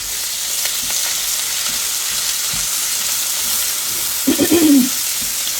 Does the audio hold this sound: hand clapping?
no